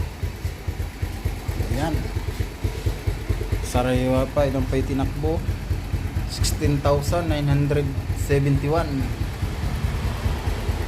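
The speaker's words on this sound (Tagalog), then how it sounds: "painitin natin yung makina ng isa nating motor" A seven-year-old motorcycle engine idles steadily while warming up, a low continuous putter close by, while someone talks over it.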